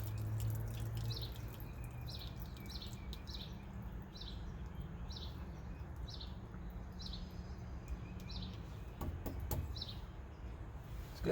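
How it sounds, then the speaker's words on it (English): Water trickling and dripping steadily as it drains down through tubing from an outdoor faucet, a constant wet hiss with small splashes, plus faint chirping birds outdoors. "That's just the water draining down through the tubing"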